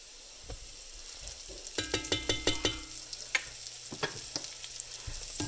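Garlic hits a hot pan of browned onions, bursting into loud crackling sizzle with rapid pops and scattered spits, steady and close with no talking.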